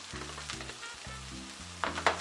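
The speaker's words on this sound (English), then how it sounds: "we're going to add our shallots, our bell pepper, our hot banana pepper, all of this in the skillet. Hear that sizzle?" Shallots, bell pepper and hot banana pepper sizzle in a skillet, a steady close frying hiss. Low tonal hum pulses beneath, and two short sharper crackles or stirring clatters come near the end.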